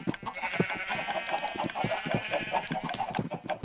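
Chickens in a city-building video game, a rapid run of clucks and squawks over a steady background hum.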